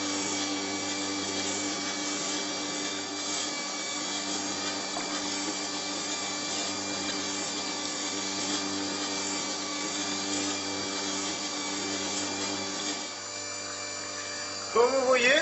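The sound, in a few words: wood chisel being sharpened on a rotating sharpening stone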